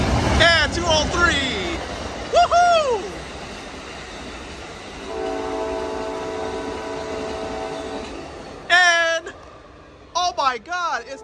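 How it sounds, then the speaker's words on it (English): The Amtrak Coast Starlight passenger train, led by a P42DC locomotive, rumbles past close by Oakland Coliseum station, horn blasting in repeated loud bursts over a steady droning engine and rolling wheels. "Coast Starlight train number 14 going by the Oakland Coliseum station to Seattle."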